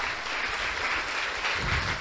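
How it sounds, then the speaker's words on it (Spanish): A church congregation applauds strongly, a dense, steady wash of many hands clapping together with low rumble underneath, sustained and fairly loud throughout. "Dale un fuerte aplauso."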